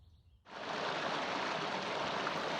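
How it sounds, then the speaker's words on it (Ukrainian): A rushing mountain stream in the Carpathians gives a steady, dense broadband roar that starts abruptly and stays loud and continuous, with no voices. "Під квапливий гуркіт струмка спускаємося донизу."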